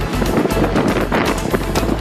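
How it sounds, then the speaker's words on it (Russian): Strong wind at sea on the Atlantic roars and buffets the microphone in heavy, rumbling gusts, with a constant low drone underneath. "Ветер не стихает,"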